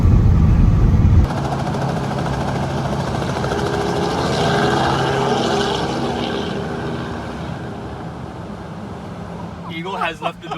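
Helicopter flying with cameras aboard for filming supercars, its turbine whine and rotor drone steady and loud throughout, a sharper burst at the start, with a voice briefly at the end.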